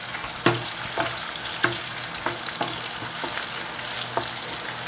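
Chopped garlic and onion sizzling in hot oil in a pan, a steady close crackle with occasional sharper clinks and scrapes of stirring, no voices.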